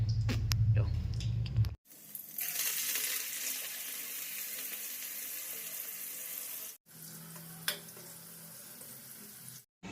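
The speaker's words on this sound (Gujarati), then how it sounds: "મસ્ત મજાનો વઘાર દઈ દઈએ" Loud, steady crackling sizzle of tempering spices hitting hot oil for an eggplant dish, starting abruptly after a brief low rumble, pausing once and resuming near the end.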